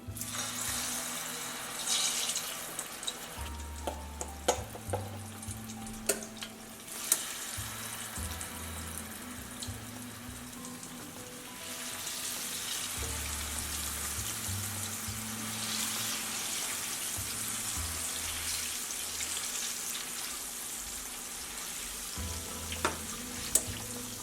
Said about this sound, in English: I have the oil on medium-high heat here, and I'll just fry the plantain